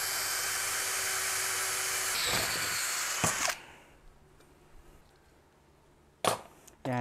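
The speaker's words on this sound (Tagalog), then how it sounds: "Ayan, butas muna tayo isa." A power drill bores a hole in metal while fitting a rally tower to a Honda CRF150L, whining steadily for a few seconds before stopping, followed by a couple of sharp knocks.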